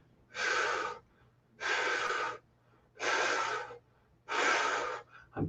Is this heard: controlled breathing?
yes